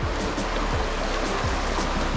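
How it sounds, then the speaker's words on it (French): A trout river flows beside a hiking trail, with a continuous rushing, splashing wash of water close by and low rhythmic thumps, most likely footsteps on the path. "C'est une belle rivière à truites."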